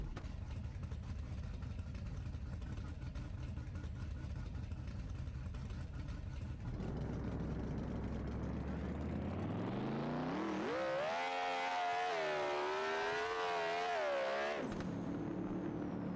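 A drag car in BeamNG.drive idles with a low, steady rumble, then revs up and races, its engine pitch climbing sharply into a loud, strained whine before abruptly dropping off near the end.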